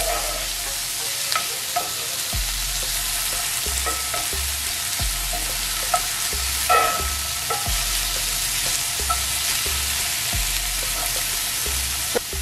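Ackee, onion and thyme cooking in a hot pan, an even close sizzle throughout with repeated scraping stirs underneath and no talking.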